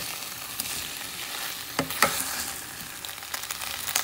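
Spice paste with whole green chillies stirred in a hot pan, continuous close sizzle broken by a couple of sharp spatula scrapes and clicks.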